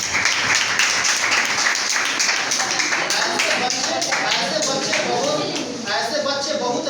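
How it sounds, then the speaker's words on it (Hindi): Children in a classroom clap together in a loud, ragged wave that slowly thins out, with a voice talking over part of it. "ताली बजा दो उनके लिए"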